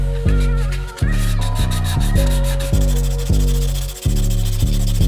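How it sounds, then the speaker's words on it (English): A polyurethane car side skirt on a 1989 CRX is hand-sanded with 220-grit paper in loud, close, rhythmic back-and-forth rasping strokes, about eight in quick succession, with no speech. "I'm going to step it up to 220. That way I don't gouge this plastic too much whenever I try to sand this smooth."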